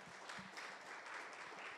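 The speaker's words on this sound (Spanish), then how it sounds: "Un fuerte aplauso a ese equipo." Audience applause at a civil society report presentation in the Dominican Republic, a brief patter of clapping heard faintly and at a distance.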